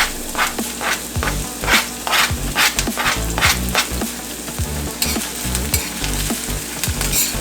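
Chopped onion, scallion and thyme sizzle steadily in a hot pan while a utensil scrapes and stirs through them in quick, repeated strokes, close and loud.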